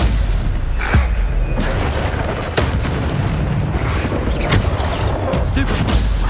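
Hogwarts Legacy combat with a Stupefy spell cast amid dense bursts and booms, loud and continuous with several sharp impacts throughout.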